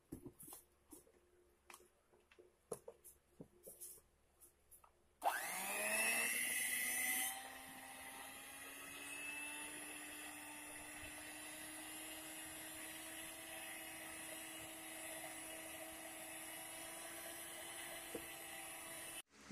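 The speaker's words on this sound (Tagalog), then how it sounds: "kung may electric mixer kayo, gamitin nyo ang electric" Electric mixer beating puto batter, starting abruptly after some light clinking, with a loud whirring rise that settles into a steady, moderately loud hum running to the end.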